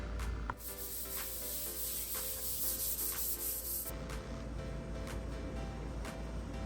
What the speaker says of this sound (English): So I'm gonna have to wipe it down because we have to sand and then seal.